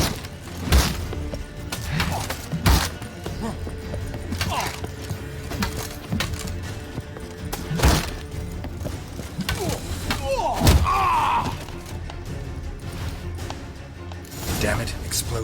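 Explosion in The Witcher 3: Hearts of Stone, heard as heavy thuds and cracking impacts scattered through the stretch, with someone talking over the action.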